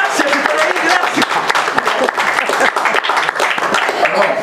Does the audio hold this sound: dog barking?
no